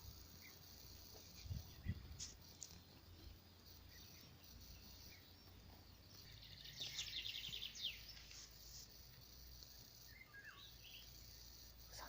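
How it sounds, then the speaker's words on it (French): Small birds chirp and insects trill in a quiet natural outdoor setting, faint and distant, with a brief burst of high twittering midway and a soft steady background hiss. "les chants de différents petits oiseaux et tous ces insectes qui déambulent,"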